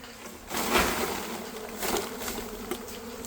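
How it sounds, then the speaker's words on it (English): A large mass of honey bees buzzing close by during a hive removal, a dense continuous drone that swells and ebbs with a few louder passes near the ear. "Still got a whole lot of bees right there."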